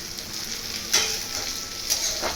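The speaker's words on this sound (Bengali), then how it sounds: "এবার আমি 2টো শুকনো লঙ্কা আর 4টে কাঁচা লঙ্কা এর উপরে দিয়ে দেবো, মাঝখানটাতেই দেবো, দিয়ে ভালো করে ভাজবো।" Dried and green chillies frying with spices in a pan for a loitha fish paturi recipe: a steady close sizzle, with louder bursts of stirring at about one and two seconds.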